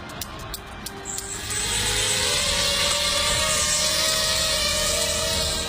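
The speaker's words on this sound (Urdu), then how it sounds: "فضاؤں میں اڑتا یہ ڈرون بلال کی ذہانت کا شاہکار ہے" A homemade drone taking off and flying: a few brief clicks, then a loud steady whirring buzz of propellers with a rising whine as it climbs and hovers nearby.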